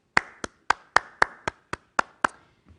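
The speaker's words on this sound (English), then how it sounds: "I want you to clap your hands." Nine sharp hand claps in a steady rhythm, close and loud, spaced about a quarter second apart, each with a short room tail, during a simple English classroom action game.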